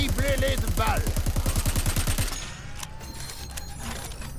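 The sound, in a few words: gunfire in the video game Crackdown 3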